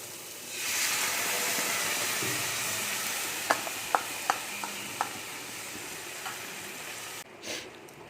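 Tomato and capsicum sizzle in a frying pan with a steady, close hiss, a few sharp clicks of a utensil against the pan partway through, and a brief clatter near the end.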